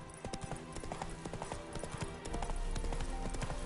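A horse's hooves clip-clop in The Witcher 3: Wild Hunt, a rapid, steady run of hoofbeats at a trot or gallop, heard fairly faintly beneath game ambience throughout.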